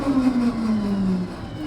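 A tiny high-torque car passes by with a droning engine note that slides downward as it goes, a brief medium-loud flyby.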